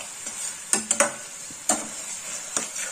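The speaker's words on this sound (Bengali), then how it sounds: "মশলাটা অনেকটা ভাজা হয়ে গেছে" Ground spices frying in oil in a pan for a Bengali cauliflower and egg curry: a soft continuous sizzle broken by several sharp scrapes and clinks of a spoon stirring, close and without talk.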